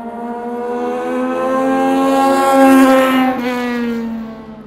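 A race car engine revs steadily at high pitch around a short track, a strong harmonic whine that rises slightly, peaks, then eases off near the end, loud and continuous with no talk.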